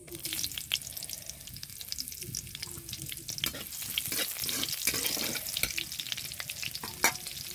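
Whole dried red chillies fry in hot oil for tempering, giving a close, steady sizzle broken by sharp crackles and pops, with occasional stirring scrapes in the pan.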